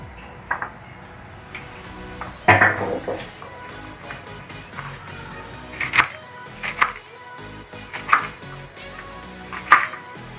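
A knife chops young okra into small rounds on a cutting board in scattered sharp taps, some close together, others spaced apart with quiet gaps between.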